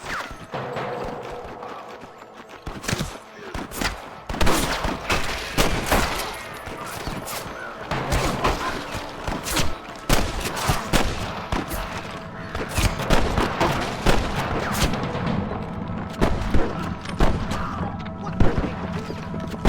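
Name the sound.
gunfire in a video game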